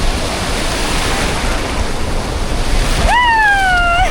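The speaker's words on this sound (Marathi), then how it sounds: "हे बघ लाट आली लाट आली" Ocean surf breaking on Kashid beach: a steady, loud broadband wash of waves throughout, with a high rising-then-falling whistle-like tonal cry cutting in over the roar near the end.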